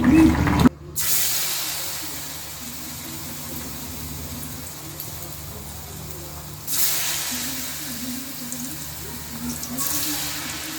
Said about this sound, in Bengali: কড়ার মধ্যে তেল দিয়ে দিছি বেগুনি ভাজার জন্য